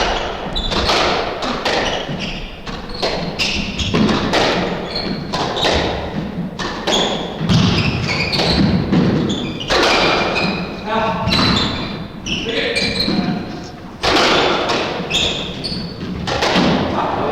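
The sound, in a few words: squash ball shots during a doubles rally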